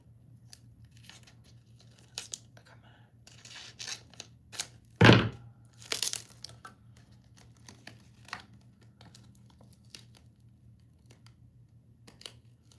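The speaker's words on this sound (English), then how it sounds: "This one I can cut the end off so we don't get the overlap" Scissors cutting the end off a craft piece, a few sharp snips and a loud central crunch with light rustling and handling noises, close and alone without talk.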